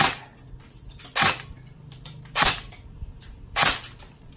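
A tuned M4A1 E&C301 airsoft rifle fires in a home garden: three sharp, close single shots, evenly spaced about a second apart, with quiet between them.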